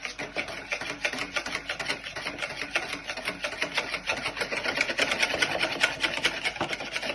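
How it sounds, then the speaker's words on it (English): Cream is whisked by hand with a whisk for a Victoria sponge cake, making a fast, steady scraping and rubbing rhythm against the bowl that goes on throughout. "with a whisk, you want to whisk this till it goes nice and thick"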